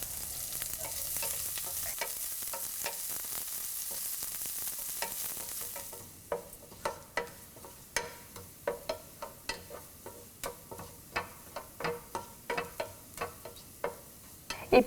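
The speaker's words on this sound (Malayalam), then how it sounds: "ഇനി ഇതിലോട്ട് നമ്മൾ കട്ട് ചെയ്ത് വെച്ചിരിക്കുന്ന ചെറിയ ഉള്ളി ഇട്ട് ഗോൾഡൻ ബ്രൗൺ ആവുന്നത് വരെ വഴറ്റുക." Small shallots and cumin sautéing in a pan for papaya thoran: a steady broadband sizzle, then after a few seconds the frying quiets and repeated scraping stirs of a spatula take over in a regular rhythm, close and moderately loud.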